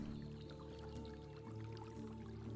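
Steady running water of a small stream in the medieval survival game Medieval Dynasty, a continuous soft trickling and gurgling flow heard alone without talk.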